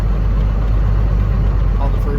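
A 12-valve Cummins diesel truck engine idles with a steady, low rumbling drone throughout, close and fairly loud; a voice talks over it.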